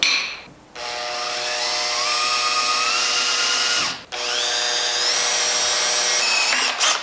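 A power drill whining loudly as it bores a 6.25 mm hole for tapping an M7 thread on a BMW M52/M54 engine oil pump nut, two long runs with a brief pause between, pitch shifting slightly under load.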